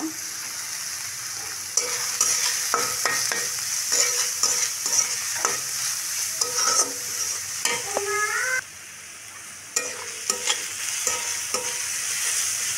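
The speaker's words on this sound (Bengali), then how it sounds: "পেঁয়াজ রসুনটা আমি সুন্দর করে একদম ব্রাউন কালার করে ভেজে নেব" Chopped onion and garlic sizzle steadily in hot oil, browning, with repeated scraping stirs and clacks of a spoon against the pan.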